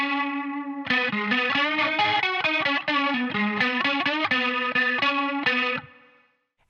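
Electric guitar lead lick, played on the third string with bends, heard alone: a run of quick distorted, effect-laden notes lasting about five seconds, loud and close, ending with a sustained note that fades out.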